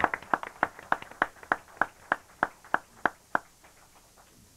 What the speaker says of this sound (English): So if you could please just give Tony one more round of applause.